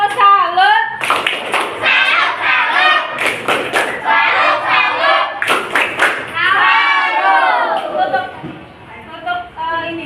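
A classroom group performs a rhythmic patterned clap, with short bursts of hand claps and thumps punctuating lively chanting and talking voices.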